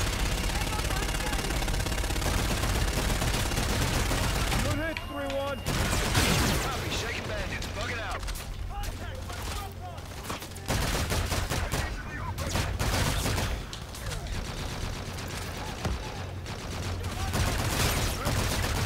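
A called-in fire strike in the sci-fi shooter Call of Duty: Infinite Warfare, loud sustained machine-gun fire and heavy impacts rolling on, pausing briefly before resuming, with radio chatter mixed in.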